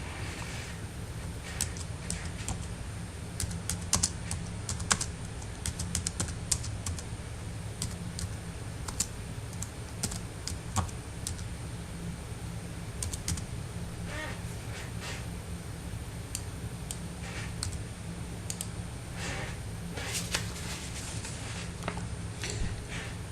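Typing on a computer keyboard while entering text into a merged table cell, producing a steady stream of quiet, closely spaced key clicks at moderate distance, with faint background hum and no talking.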